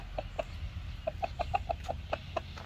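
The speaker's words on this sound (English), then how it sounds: "Oh, now the chickens want to get involved." Chickens cluck close by in a quick, uneven series of about ten short clucks over a few seconds, faint and alone with no talk.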